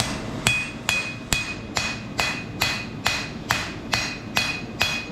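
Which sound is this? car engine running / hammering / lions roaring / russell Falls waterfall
hammering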